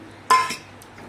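A spoon strikes a pan once with a short metallic clink while cashews, almonds, cardamom, cloves and cinnamon are stirred in hot ghee. A softer scrape follows in an otherwise quiet moment.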